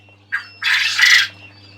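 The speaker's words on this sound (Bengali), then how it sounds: "নিচে কিং কোয়েলে ডাকে, ওর সাথে পাল্লা দেয় ওরাও ডাকে" King quail calling nearby, a short chirp followed by a longer harsh, buzzy call, loud and clear over a low steady hum.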